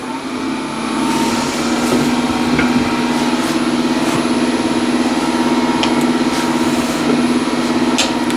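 Waste wood being turned down to thickness on a wood lathe, a steady motor drone with a constant low hum and faint scraping bursts from the cutting tool, continuous and fairly loud throughout.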